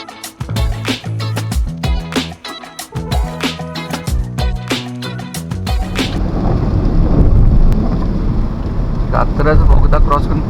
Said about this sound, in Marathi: इकडे जोरात पाऊस सुरू आहे